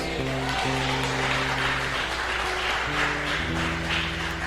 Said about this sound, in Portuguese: Aplaude o Rei Jesus.